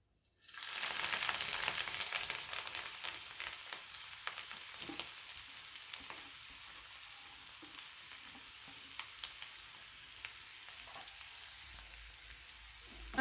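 Mixed vegetables fry in hot oil in a pan, a steady loud sizzle that starts right after they are added and continues unbroken, with small crackles and stirring scrapes over it and no talking.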